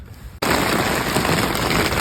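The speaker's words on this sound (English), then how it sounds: "we're in the middle of a thunderstorm. It's raining pretty hard." Heavy rain pours steadily during a thunderstorm at a Michigan campsite, a dense, loud hiss that starts abruptly and continues without pause, close by with no talking.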